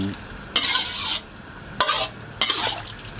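Pork skin frying in oil and water for cracklings, stirred in three bursts of scraping and sizzling against the pan, with a steady low simmer between strokes.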